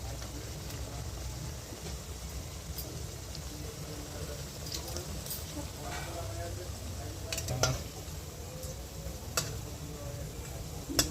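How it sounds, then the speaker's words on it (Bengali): Goja sweets frying in oil on medium heat make a continuous soft bubbling sizzle, with occasional light ticks and clinks of a utensil near the end. "এর মধ্যে ভেজে নেব তো মিডিয়াম মিডিয়াম হিটে ভাজবেন"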